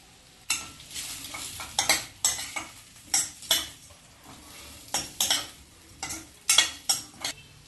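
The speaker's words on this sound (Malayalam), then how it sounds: "ഒരു ടേബിൾ സ്പൂൺ നിലക്കടല വറുത്ത് പൊടിച്ച് ചേർത്ത് ഇളക്കി കൊടുക്കാം" Sweet potato upma with ground roasted peanuts is stirred in a pan, producing irregular scraping clinks and knocks of the spoon on metal over a light sizzle, near and fairly quiet, without speech.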